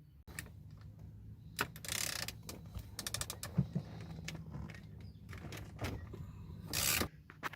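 Ratcheting wrench work while a bolt on a 1999-2006 GM truck steering wheel is loosened with a 13/16 wrench, giving fast repeated clicking bursts and brief metallic rattles at close range, with no talk.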